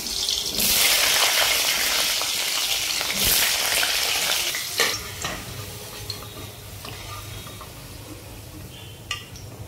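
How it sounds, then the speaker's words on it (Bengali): Potatoes fry in a few spoonfuls of hot oil for a hilsa curry, a loud crackling sizzle with a burst of bright spitting early on, then calmer frying and sharp utensil clicks, with no talk. "তো প্রথমে আলুগুলো আমি ফ্রাই করে নেব।"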